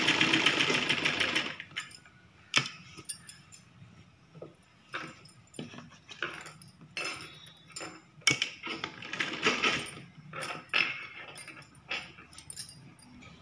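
A sewing machine stitches a star neck blouse in quiet, intermittent bursts of rapid mechanical whirring and clattering, starting and stopping repeatedly, close up.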